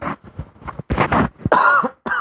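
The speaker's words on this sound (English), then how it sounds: "Hold on, I got a cough." A person coughs several times in quick bursts, close and fairly loud, with a throaty rasp and short pauses between the hacks.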